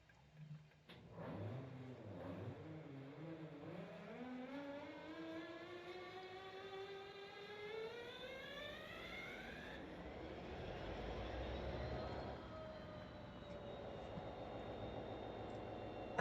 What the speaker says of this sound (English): I think that is perhaps one of the coolest ever start sounds ever to come to Train Sim